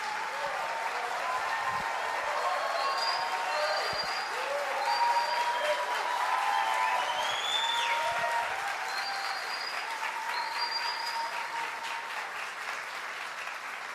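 A church congregation applauds warmly, sustained even clapping filling the room for many seconds while voices and a few cheers ring out over it.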